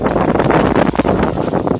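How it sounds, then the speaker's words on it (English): Strong wind buffets the microphone in gusty, rumbling bursts, loud and continuous throughout. "It's rather windy"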